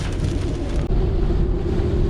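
Heavy wind and rain from Hurricane Dorian roar together in a dense, loud wash of noise with a constant low rumble.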